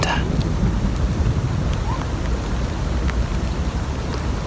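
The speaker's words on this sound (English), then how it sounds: "Here comes the rain again." Rain pours steadily onto a garden in a dense, even hiss, with some wind buffeting and scattered drip taps, continuous and fairly loud.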